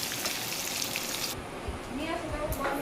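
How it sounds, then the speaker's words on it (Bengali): Eel fish frying in hot oil in a pan, a steady broadband sizzle that is loud at first and then thins out, with a few low clatters from stirring. "ভালো করে ভেজে নেব, ফ্রাই করে নেব।"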